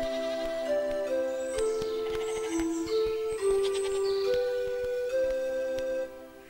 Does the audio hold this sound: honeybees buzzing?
no